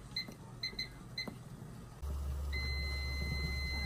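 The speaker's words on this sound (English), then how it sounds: "All right, our timer is going off." A kitchen timer goes off while pineapple is being canned: a few paired electronic beeps first, then a long steady tone that holds to the end, with a low hum beneath.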